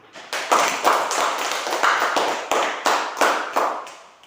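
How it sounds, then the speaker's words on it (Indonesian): Students in a classroom clap for themselves after a math exercise, a short burst of fairly close, rhythmic group clapping with distinct sharp beats that rises quickly and stays steady to the end. "ya tepuk tangan untuk diri sendiri"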